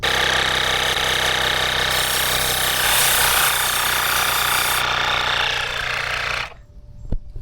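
A NEBURIA Gen 2 electric foam sprayer coats a car tire with foam, making a loud, steady, hissing mechanical drone that runs unbroken and then cuts off sharply.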